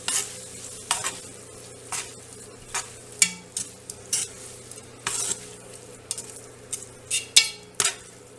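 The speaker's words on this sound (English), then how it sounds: "Now that's on a hot surface, so it's sizzling." Spaghetti aglio e olio sizzling in a hot pan, with a steady frying hiss broken by repeated scraping stirs and light utensil clinks at a near-regular pace, close and fairly loud, no talking.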